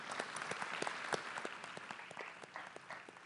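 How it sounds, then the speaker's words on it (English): A faint audience at a futurists' education event applauds organisers and funders, the claps distinct and fairly sparse, heard from a distance at low level. "a big round of applause for Ira and Allison, who put this together, and our funders"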